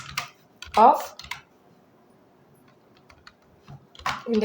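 Java code is typed on a computer keyboard in soft, irregular bursts of clicking keys, close up and fairly quiet, with pauses between keystrokes.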